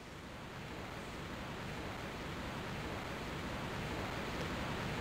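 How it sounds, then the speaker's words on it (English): A noisy waterfall in Tomb Raider 1 Remastered, rushing as a steady, broadband roar of falling water with no pauses or variation, loud and close throughout. "That is a very noisy waterfall."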